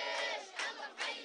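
A crowd at a Syrian village reconciliation gathering cheers and shouts in unison, three loud surging bursts of massed voices across a brief stretch.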